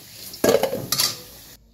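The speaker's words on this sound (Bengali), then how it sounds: "আলুটা একটুখানি ভেজে নিচ্ছি" Potatoes fry in a pan with a low sizzle, broken by two quick scraping stirs of a spatula, close by with no voices.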